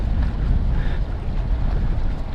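Wind blows across an open waterside spot in Mandurah, producing a dense, low, rumbling buffet against the microphone that stays steady and fairly loud throughout the brief moment.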